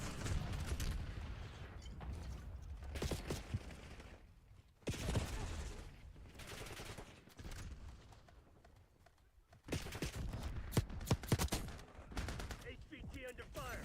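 Bursts of gunfire from a Roblox shooter game, rapid volleys of shots in several clusters with quieter gaps between, fairly loud and close, with game voice callouts mixed in.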